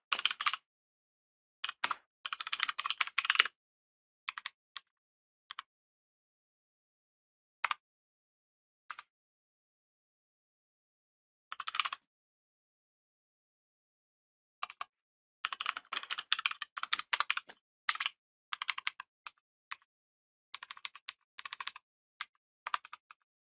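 Someone types code into a computer keyboard, writing a SystemVerilog test module. Bursts of close, crisp key clicks come in irregular runs with quiet pauses between them, and no one speaks.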